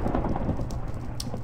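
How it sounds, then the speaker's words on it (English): Thunder rumbles low and steady under rain in the Hogwarts video game at a late-night dueling class, with a couple of sharp bright crackles near the end and no voices. "thunder is going on"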